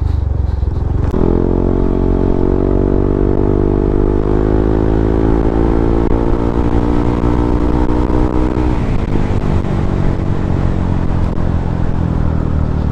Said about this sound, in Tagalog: At unang-una kong pag-release talaga ng throttle dito sa ating motorsiklo